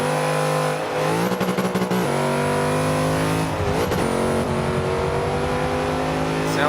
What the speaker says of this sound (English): Sounds like Drifter just missed a gear there